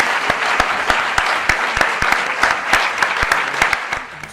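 Sustained applause from a crowd, dense clapping with a few sharp louder claps standing out, steady for several seconds.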